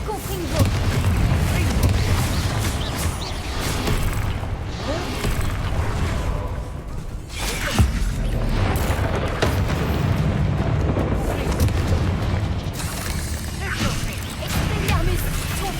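Heavy booming spell blasts from Bombarda and Confringo in the Hogwarts Legacy video game, a dense, loud barrage of explosions and crashes that keeps going with almost no pause, with a voice shouting spell names over it.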